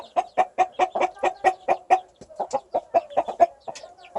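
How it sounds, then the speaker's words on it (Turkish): A mother hen guards her chicks with a rapid, steady series of loud, close clucks, about twenty in a row with a brief pause midway, on a rural Antalya farm with a rooster nearby; no talk. "Anne daha saldırgandır civcivlerini koruma konusunda bak hemen ne yaptı?"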